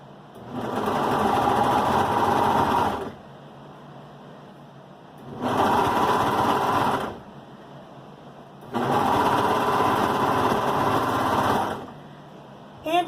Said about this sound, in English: I'm going to serge just the back part together